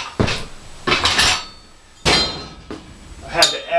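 A metal Iron Horse emergency survival stove is set down on a brick and shifted to center it, giving a series of sharp metallic clanks and knocks at close range, with short pauses between them.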